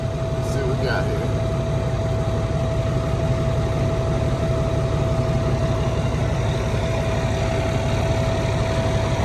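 A Peterbilt truck's diesel engine idles in a steady, close rumble with a constant whine as the air pressure builds, running evenly without change, and a person speaks over it at times.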